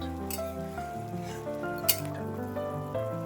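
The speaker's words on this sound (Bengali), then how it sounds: "মশলা লঙ্কা গোলমরিচটা ফোড়নের জন্য দিলাম" Spices, chilli and pepper sizzle in hot tempering for rasgulla rezala, a steady frying hiss with a few clinks of utensils and tonal background sounds.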